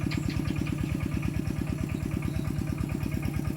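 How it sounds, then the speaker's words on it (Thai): A tractor's diesel engine chugging steadily at a fast, even rhythm, close and loud, with a faint clatter on top. "เสียงรถไถพี่น้องเอ้ยเนาะ"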